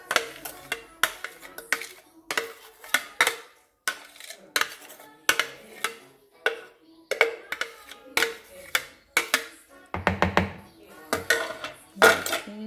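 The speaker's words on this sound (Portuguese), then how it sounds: "Vou misturar assim bem devagarzinho e com cuidado, que é para elas não se desmancharem." A spatula or spoon gently folding beaten egg whites into fig cake batter in a bowl, with repeated soft clinks and scrapes against the bowl in a slow, steady rhythm.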